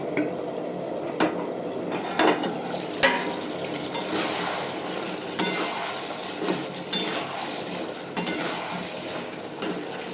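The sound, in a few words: lifting the lid off a cooking pot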